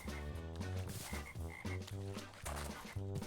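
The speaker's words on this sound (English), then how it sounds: "You have the frogs just making their noises," Frogs croak repeatedly in a video game swamp biome, a steady chorus of rhythmic, pulsing calls that stays loud and close throughout, with no voices.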